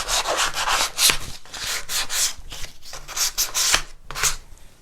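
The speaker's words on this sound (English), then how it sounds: "you can see immediately the scratching takes off the sheen, and you can do that all the way over and round" Wooden furniture being scratched and rubbed with an abrasive to remove its sheen before chalk painting, producing close, loud rhythmic rasping strokes in quick repeated bursts.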